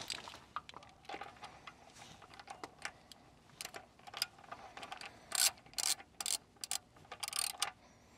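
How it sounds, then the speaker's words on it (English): Faint, close clicks and ratcheting turns of a wrench tightening the aluminum oil drain bolt on a Yamaha SHO, irregular short bursts over a quiet background. "Put the bolt back in there."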